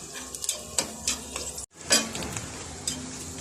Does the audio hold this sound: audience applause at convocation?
no